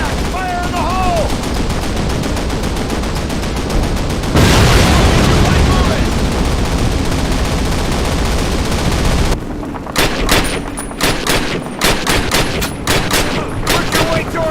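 Explosions and gunfire in Call of Duty Classic: a loud sustained wall of blasts and rumbling detonation, then sharp rapid gunshot bursts cracking one after another, all close and dense.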